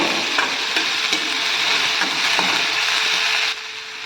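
Loud, continuous sizzling in a hot pan with rhythmic scraping and clinking of a spatula as vegetables for vegetable idli are tossed, ending in a softer hiss.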